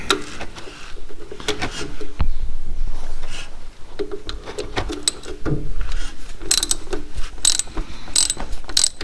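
A ratchet loosening the oil filter on a barn-find Morris Minor, rapid clicking pawl bursts in repeated strokes with short pauses between, close and fairly loud.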